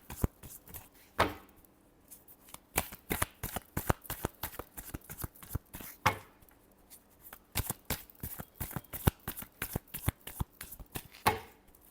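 Tarot cards shuffled by hand in a steady run of quick, crisp riffling bursts, close and clear, with a few longer cascades standing out and no talking.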